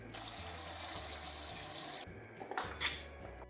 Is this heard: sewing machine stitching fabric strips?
no